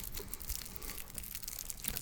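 Loose wrapping paper on two candy canes crinkles continuously at close range, a dense, steady crackle with no talking.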